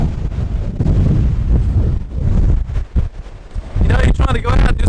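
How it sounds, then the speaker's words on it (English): Heavy wind buffets an outdoor microphone in loud, continuous rumbling gusts that build toward the end, with a person talking intermittently over the noise. "It's pretty windy."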